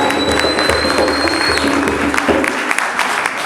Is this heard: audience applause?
yes